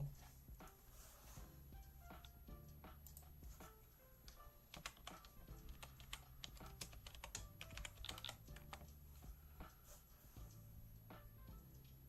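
Rapid, irregular clicking of a computer keyboard being typed on, close and quiet, continuing in bursts for the whole stretch with no talking.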